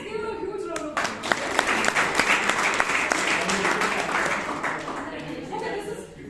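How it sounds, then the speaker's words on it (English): An audience at a Toastmasters meeting in Bangalore breaks into steady, full applause that lasts several seconds before tapering off, with some voices mixed in. "Let's give her a huge round of applause."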